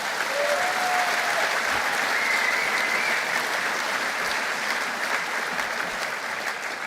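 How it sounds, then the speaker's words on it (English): Sustained crowd applause at an outdoor Conservative barbecue at the Calgary Stampede, a steady dense clapping that holds at full strength for about seven seconds, with faint whistles riding over it and no talk. "Yes, give him one more round of applause."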